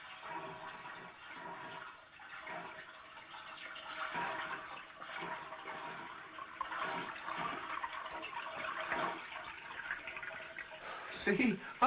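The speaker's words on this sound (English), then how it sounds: "Sounds like water running." Water runs steadily, like a tub filling, a broad hiss that swells and fades over about twelve seconds under a quiet indoor backdrop at night.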